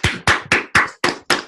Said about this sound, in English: I'll applaud that.